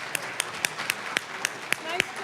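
Scattered, uneven applause from a graduation audience, with sharp individual claps standing out at irregular intervals under cheerful voices.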